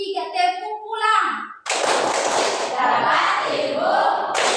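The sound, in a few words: children's clapping rhythm game 'tepuk pulang'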